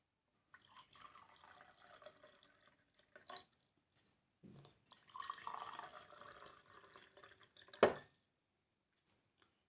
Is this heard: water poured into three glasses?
yes